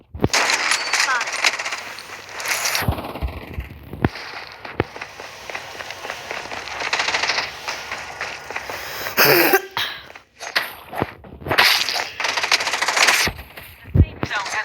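Coughing rings out amid a mobile battle-royale shooter game, brief coughs breaking through loud bursts of gunfire, reload sounds and game voice callouts that run throughout.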